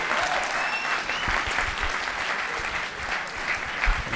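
A conference audience at EuRuKo 2019 claps for speaker Yusuke Endoh, a winner of the International Obfuscated C Code Contest. The applause is full and continuous, with a few faint whoops mixed in.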